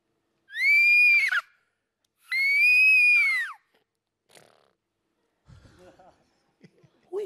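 A person imitates a horse neighing, giving two long, loud whinnying cries with falling ends, close to the listener, followed by softer breathy sounds and a brief voice.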